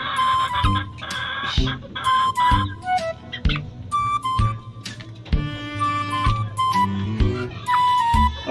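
Gamefowl stag, a Boston Hornet over Raptor Sweater cross, clucking and calling in repeated short bursts up close, with other birds calling in the background.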